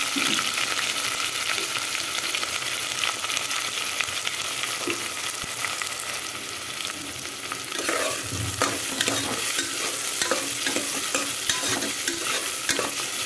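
Three large sliced onions with cinnamon and green chillies fry in hot oil for a mutton curry, a constant loud sizzle broken by scraping stirs of a spoon in the pan, with no talk.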